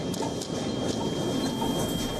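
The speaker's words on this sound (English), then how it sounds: "Trains shook violently." Train rumbling and rattling during the 7.6 magnitude Noto earthquake in Japan, a steady loud clatter of rail cars with faint higher squeals, continuous throughout with no voices.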